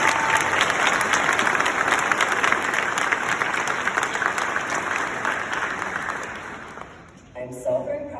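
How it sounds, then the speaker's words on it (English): A graduating class at a 2021 graduation ceremony gives itself a loud, sustained round of applause that gradually tapers off before a speaker resumes talking. "so let's give ourselves a round of applause"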